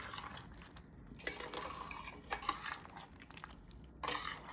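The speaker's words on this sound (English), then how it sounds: "Let me give this a good stir." A spoon stirs Alfredo and basil sauce in a pan, making quiet, continuous scraping and wet swirling with occasional light clinks against the pan, faint and close.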